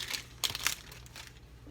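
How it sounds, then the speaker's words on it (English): Plastic wrapper being peeled off a cheese slice, with quiet crinkles and two brief sharper crackles, close and faint, with no talk. "this one's unwrapping a little easier"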